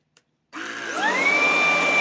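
A Ryobi PBLSV717K brushless vacuum clicks on and spins up to a loud, steady high-pitched whine while cleaning a cushion, the motor pitch rising as it reaches full speed.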